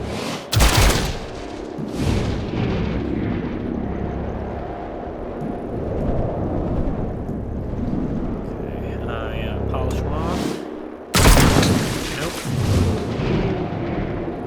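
Gunfire in XCOM: Chimera Squad, loud heavy bursts of shots at the start and again near the end, with a rumbling battle din and a voice talking in between.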